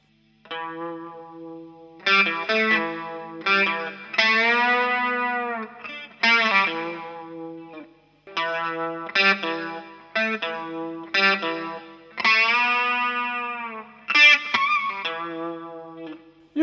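Electric guitar solo played with pinch harmonics: sustained, bending lead notes in phrases with short gaps, processed with chorus-like effects and heard alone.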